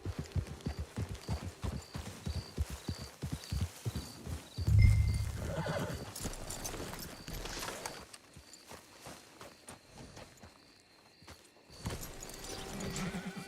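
A horse in a video game clip-clops at a steady walk, followed by a loud whinny and snorting, then quieter shuffling.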